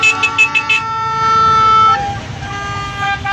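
Car and truck horns honk in a motorized caravan of trucks packed with people at a large gathering. A burst of short toots comes first, then overlapping sustained blasts, close and loud over engine rumble.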